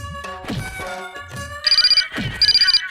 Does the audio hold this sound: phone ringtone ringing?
yes